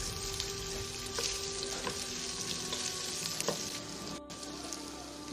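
Green chillies fry in a ginger-garlic masala, making a soft, continuous sizzle with scattered crackles and pops, heard up close with no talking.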